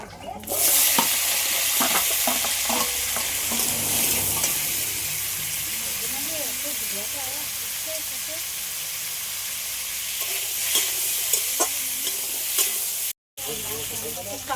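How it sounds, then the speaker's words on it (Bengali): Teasel gourd (kakrol) pieces, salted and coated in turmeric, fry in leftover potato-frying oil with a steady loud sizzle and hiss throughout, close by, with occasional stirring clicks and a brief gap near the end. "এই আলু ভাজার তেলের মধ্যে কাঁকরোলটাও ভেজে নিই"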